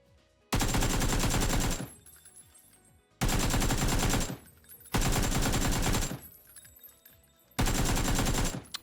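Video game gunfire from a weapon fitted with a muzzle brake rattles out in four long, loud automatic bursts, each running a second or more, with short quiet gaps between them.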